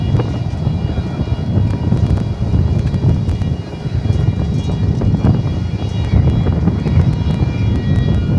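A DHL cargo airplane at DFW Airport at night, a loud, steady, broadband engine roar with rumbling low end and wind buffeting on the microphone, continuous throughout, with no talk.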